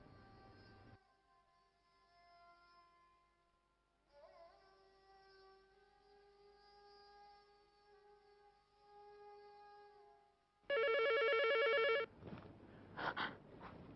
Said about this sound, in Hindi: अम्मी, आमिर का फोन होगा, मैं नहीं उठाऊंगी, आप बात करें।